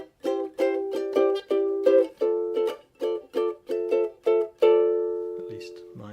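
A ukulele picks through the chorus of a song fingerstyle, rhythmic plucked chords ringing close and bright, ending in a held chord with a brief voice after.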